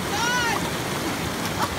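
Water poured over a person's head for an outdoor rinse, a continuous close rushing splash lasting throughout, with voices talking underneath.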